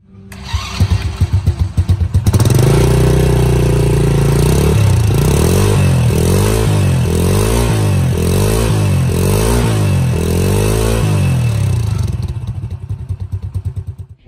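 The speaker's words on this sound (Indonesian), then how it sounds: "Bang, knalpotnya kayak gimana sih suaranya?" A Honda Astrea motorcycle with a stock exhaust idles close by with a low, steady rumble, rising and falling through several gentle revs before settling back down.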